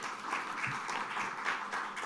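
An audience at a finance conference claps steadily in a welcoming round of applause for a speaker, a soft, even patter from a moderately distant crowd.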